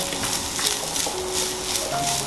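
Fennel seeds roast in coconut oil over a medium flame, a soft, even crackle and sizzle with light stirring, close and steady for a couple of seconds.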